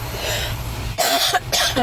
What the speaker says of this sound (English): I just coughed, holy cow. That doesn't sound good.